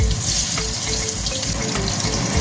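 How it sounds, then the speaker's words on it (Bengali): Pieces of cut rohu fish drop into hot oil in a pan and fry with a loud, steady hiss and bubbling sizzle, close up and with no voices. "এবার মাছটা ছেড়ে দেবো।"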